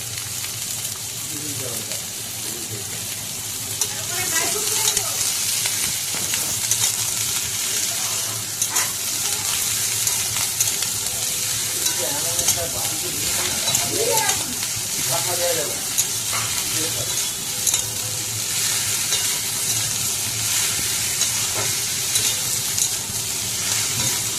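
Snake gourd and potatoes stir-fry in a wok with dried red chilli, giving a continuous close sizzle broken by scraping stirs, while a voice talks intermittently over the cooking.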